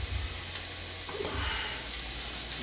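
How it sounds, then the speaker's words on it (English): Onions sizzling gently in a pan with garlic for a veggie chili, a soft steady frying hiss that holds throughout at low level, close by and alone. "Start to hear my onions starting to sizzle."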